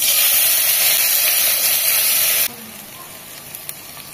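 Mutton sautés in a pan for a kasha-style dish, a loud, close sizzle of frying meat that cuts off sharply about halfway, leaving a much quieter, faint crackle and small clinks.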